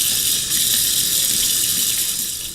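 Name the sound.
washing hands under a running kitchen tap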